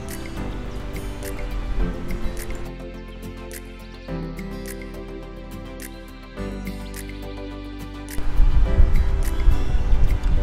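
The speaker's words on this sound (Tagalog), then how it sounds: "Maglalagay na rin tayo ng tubig para hindi masyadong dry ang sauce." Water poured into a pan of fish sarsiado sauce, a wet, steady pouring and sizzling wash with a louder, rougher burst of bubbling near the end, close and without talk.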